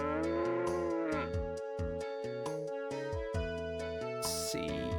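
A cow moos in Breath of Fire III over steady looping game music, the low bovine call brief and partly blended into the melodic soundtrack.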